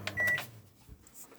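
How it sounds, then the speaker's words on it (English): A microwave oven in a 2016 Swift Elegance 645 caravan starts up with a short beep and then runs, leaving a faint hum in an otherwise quiet interior. "As you can hear, the microwave's kicked in, and that is the microwave working away"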